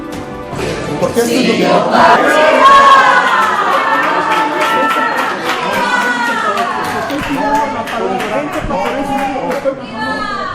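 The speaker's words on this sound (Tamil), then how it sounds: "இரு தரப்பினரும் மோதிக்கொண்டதால் அவையில் கூச்சல் குழப்பம்." Shouting uproar during a brawl in Mexico's parliament: a loud, continuous mass of overlapping raised voices and yells, with a news reader talking over the din.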